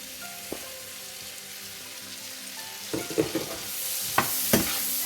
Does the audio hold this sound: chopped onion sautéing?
yes